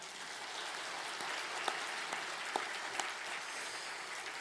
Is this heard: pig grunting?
no